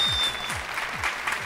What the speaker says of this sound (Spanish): pero que le hace un aplauso para ellos